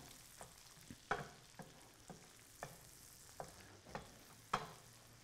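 Garlic, onion and zucchini sizzle in a pan under a steady frying hiss, with a series of sharp scraping clicks from stirring at irregular intervals, fairly faint overall.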